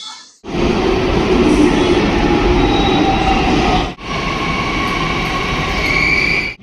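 A Pune Metro train roars loudly and steadily along the track, a brief dip midway, with rumbling wheels and faint high squeals over the din.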